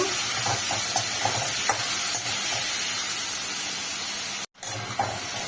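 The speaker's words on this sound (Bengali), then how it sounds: "চিংড়ি মাছটা হালকা করে ভেজে নেব।" Prawns coated in salt and turmeric frying lightly in a pan, giving a dense, steady hiss of hot oil with faint stirring knocks and a brief drop near the end.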